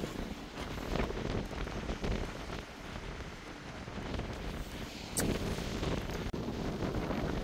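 Outdoor wind buffets the microphone in steady, gusting roars at a windy spot by the water, rising again briefly near the end, with no clear voices.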